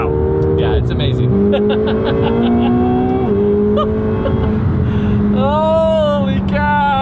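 A McLaren 720S supercar accelerates hard, its loud, close engine note climbing steadily in pitch, dropping briefly at gear changes, then rising again near the end.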